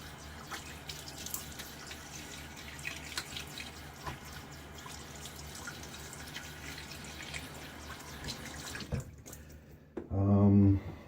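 Running tap water rinses shaving lather from a safety razor, a steady close splash that continues through most of the stretch, then cuts off near the end as a voice briefly speaks.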